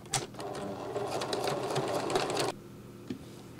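Sewing machine stitching around the folded tabs of a messenger bag, a steady close whir that runs about two and a half seconds, then stops, leaving a soft thump.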